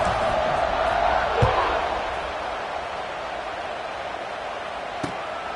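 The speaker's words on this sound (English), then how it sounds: "this crowd is buzzing after that last score" Crowd buzzing in an American football video game after a score, a continuous broad stadium murmur under play-by-play commentary, with a couple of faint thuds.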